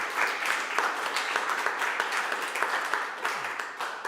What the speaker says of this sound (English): Let's give them a round of applause to all of our winners and our nominees.